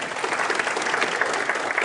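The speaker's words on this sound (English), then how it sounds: "Let's give them a round of applause for all of their hard work." Applause from the audience at a medical conference session on bladder and prostate cancer, a brief burst of steady, moderately loud clapping from a seated crowd.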